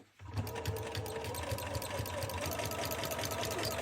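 A sewing machine stitching fabric for a patchwork coat, starting abruptly and running in a steady rapid mechanical whir with a fast needle rhythm, close by.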